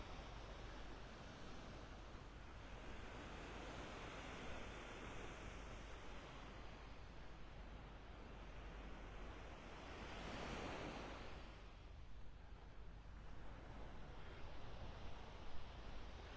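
Ocean surf breaks on the beach at North Naples, Florida, early on a Wednesday morning, a continuous broad wash of waves with one louder swell rising midway, mixed with wind rumble on the microphone.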